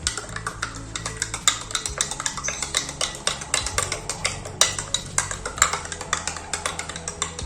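A spoon stirs a fresh drink in a glass, making quick, irregular clinks and taps against the sides that continue steadily and close by, with no talking.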